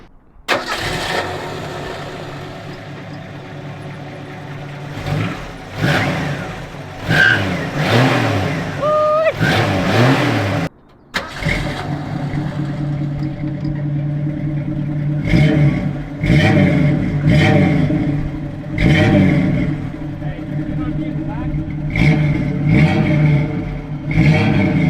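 A 1994 Ford Ranger engine cranks and catches, then idles and revs in repeated rising bursts, loud and close, with a short break partway before it fires again.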